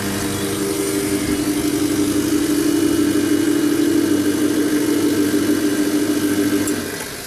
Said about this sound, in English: It's like a 1-2-4-A compressor or something.